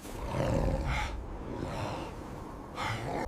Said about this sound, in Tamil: திடீரென்று பனிமூட்டத்திலிருந்து ஒரு பயங்கரமான கர்ஜனை கேட்கிறது.